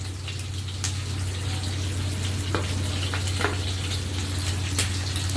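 Shrimp sizzle and fry in a pan for shrimp bhuna, a steady close crackling hiss with scattered pops and light stirring clicks, no talking.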